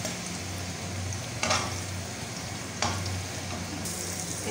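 Chopped onion and ginger fry in a pan with a constant close hiss and crackle, broken by two brief scraping stirs.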